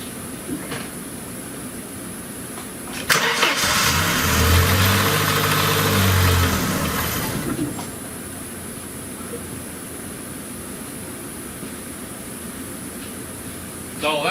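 A 1994 Dodge Dakota Sport with a 2.5L engine runs inside a closed shop after a water pump replacement, idling low and steady, then swelling in a heavier rev for several seconds before settling back to idle.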